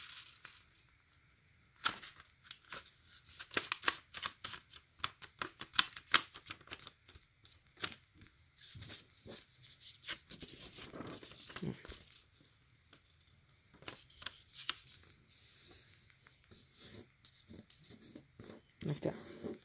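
A square sheet of origami paper is creased and folded corner to corner for a star box, giving crisp rustles and sharp crinkles in bursts, fairly close, with quieter gaps between handling.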